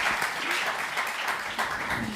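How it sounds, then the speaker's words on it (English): An audience applauds panelists at a financial well-being discussion event, producing a steady wash of clapping at moderate volume with slight swells and no distinct individual claps standing out. "Please give a warm round of applause to our panelists."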